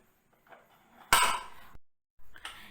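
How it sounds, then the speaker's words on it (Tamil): A pressure cooker lid is shut and the weight is set on top, making one loud metallic clatter followed by a shorter clunk in an otherwise quiet kitchen. "இப்போ குக்கரை மூடிட்டு வெயிட் போட்டுருங்க."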